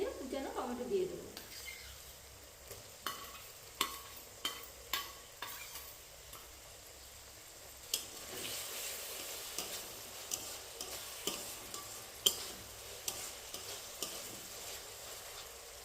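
Chopped tomato sizzles in a frying spice mixture for an egg do pyaza, a steady soft hiss broken by a run of light spoon taps and scrapes against the pan.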